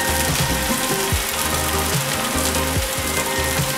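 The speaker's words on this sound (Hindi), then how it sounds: "हम फ्राई करने के लिए डाल रहे हैं। इसको लो टू मीडियम फ्लेम पे फ्राई करना है।" Kheel cutlets frying in oil over a low-medium flame, a dense, steady sizzle with crackling bubbles throughout, close and loud.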